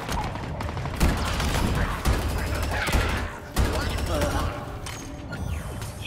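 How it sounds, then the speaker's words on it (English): Repeated heavy plasma cannon blasts in a Halo Infinite campaign firefight, several loud bursts about a second apart over a dense wash of gunfire and battle noise, with a voice speaking briefly. "Plasma cannon."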